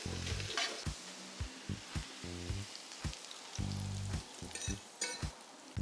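Onions fry in a pan toward crispness, a constant soft sizzle broken by repeated tapping and scraping from stirring, close up with no voices.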